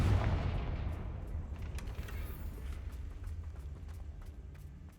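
A fiery Confringo blast spell goes off in Hogwarts Legacy with a loud booming burst at the start, then a long rumbling decay scattered with crackling hits.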